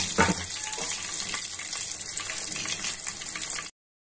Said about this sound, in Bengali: এইভাবে মিডিয়াম ফ্লেমে এটাকে ভেজে নিতে হবে।